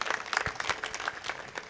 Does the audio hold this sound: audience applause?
yes